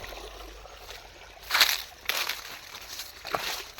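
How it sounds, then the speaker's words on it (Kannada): Canal water running through a field channel outdoors, a soft continuous trickle and slosh with a few brief louder splashy surges, heard close with no talking. "ಇದು ನೋಡ್ರಿ ಕೆನಾಲ್ ನೀರು."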